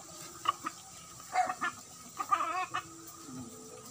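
Chickens and roosters cluck at a poultry farm raising derby gamecocks, with scattered short clucks and squawks coming in quick bursts against a quiet, fairly distant background.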